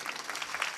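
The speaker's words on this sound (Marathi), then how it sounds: "टाळ्या वाजवा ना जोरदार." Audience clapping during a devotional kirtan discourse, a short burst of dense applause at moderate volume with no voice over it.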